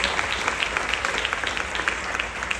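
A concert audience at a gospel performance claps steadily, producing a dense, continuous wash of applause at an even level.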